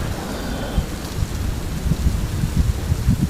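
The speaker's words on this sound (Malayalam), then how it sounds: "നല്ല മഴ." Heavy rain falls in the wild, a loud, dense roar of drops with low rumbling beneath it, steady throughout and close by, with no speech.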